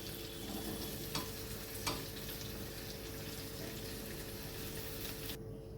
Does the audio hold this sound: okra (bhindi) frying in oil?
yes